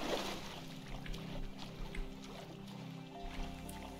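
Faint, soft water sloshing and splashing as a character swims through water in The Witcher 3. The sound is low and steady under a quiet background hum.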